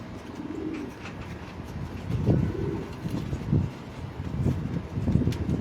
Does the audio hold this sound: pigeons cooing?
yes